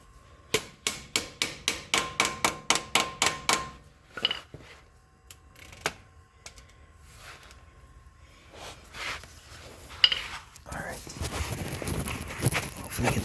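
A 1/2 inch drive ratchet with an adapter, used as a breaker bar on a car's drain plug, gives a run of about ten sharp, evenly spaced clicks up close, then scattered knocks and handling noise while a voice talks.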